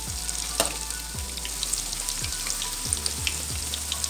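Cauliflower 65 pieces fry in hot oil, a fine crackling sizzle with scattered pops and bubbling bursts, fairly quiet and steady over a low hum.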